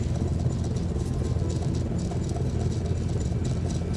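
A steady, low rumble of a carbon-fueled internal combustion engine in the game No Man's Sky drones continuously, fairly loud and close, with no other sounds over it.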